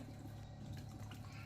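Squeezed tamarind water is poured into a pot of pepper-garlic rasam, a faint, steady liquid trickle and splash with no talking.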